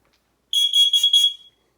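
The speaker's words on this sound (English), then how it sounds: "The smoke alarm." Smoke alarm under test sounding four quick, shrill beeps in a row, fairly loud and alone against silence, with a short fading tail.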